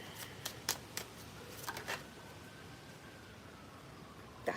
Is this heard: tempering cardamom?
no